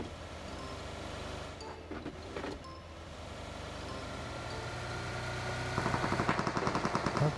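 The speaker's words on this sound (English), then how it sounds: "that's gunshot there" Gunfire in the mobile battle-royale game PUBG Mobile: scattered shots and clinks early, then a rapid automatic burst near the end, loud over a steady vehicle-like drone.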